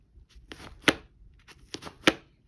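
Magnetic closures on a Bounce Design Labs 3DC v2 sling bag snap shut in a series of crisp clicks and soft fabric rustles, several distinct snaps spaced irregularly, close up with no talking.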